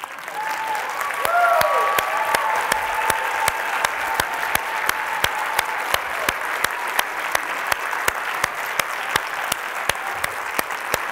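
Steady applause from a lecture audience fills the room, a few louder individual claps standing out near the front; a brief voice murmurs early on.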